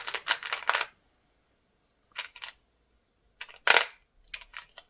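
Twelve-sided dice grabbed and rolled, several short bursts of light plastic clattering and rattling, close up, separated by silent gaps.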